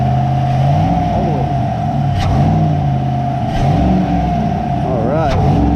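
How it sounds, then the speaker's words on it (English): A 6.2-liter Chevrolet Silverado V8 fitted with a RotoFab cold air intake, revving up loudly and close with rising and falling engine pitch, while a person talks over it. "Let's rev it up one time and see what happens."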